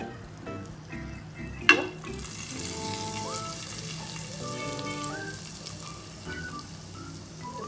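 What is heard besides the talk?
tadka sizzling as it is added to chole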